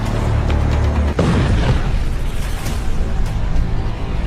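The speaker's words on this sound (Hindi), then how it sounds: "तेल के जहाज पर बमबारी" An explosion from the bombing of an oil tanker at sea: a heavy boom rolls out and dies into a long, rumbling roar of noise, with no speech.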